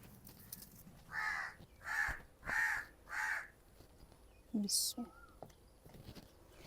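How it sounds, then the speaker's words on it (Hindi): An Asian koel calls outdoors near a mud house in Pakistan, four evenly spaced, fairly loud, ringing calls in a steady rhythm, followed by faint rustling and a few soft scattered noises. "कोयल बोलना शुरू हो गई है।"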